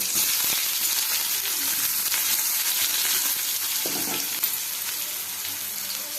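Chopped onion sizzles in hot oil with spluttering mustard seeds for suji upma, a steady, close frying hiss with occasional stirring scrapes and light clicks, no talk.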